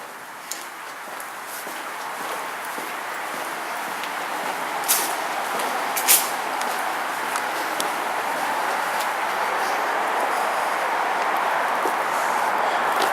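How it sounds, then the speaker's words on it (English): Traffic on a road overhead passes above an underpass in a nature park, heard as a continuous broad rushing hum with a couple of faint thumps, steady and moderately loud throughout. "You can hear the cars above us passing by."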